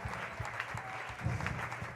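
A church congregation applauding in praise of Jesus, a continuous wash of clapping with crowd murmur, moderately loud and heard without any single voice on top.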